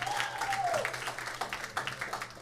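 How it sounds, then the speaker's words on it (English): An audience at a county school band festival applauds, giving a fairly faint, continuous patter of clapping with a brief tonal sound at the start. "let's give a round of applause for your parents."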